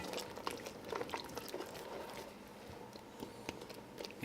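Shrimp courtbouillon, a Cajun stew made with onions, simmers in a pot with a soft, steady bubbling and faint popping, quiet and continuous with no voices.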